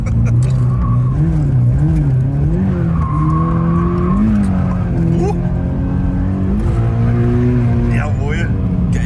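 A Toyota GT86 drifts at its limit, its tires squealing and skidding in long wavering howls over a steady loud engine drone, close and continuous.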